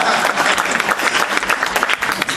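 Audience applause fills a fireside chat at a tenth-anniversary party, with dense, steady clapping that stays loud and close for the whole stretch and no talking over it.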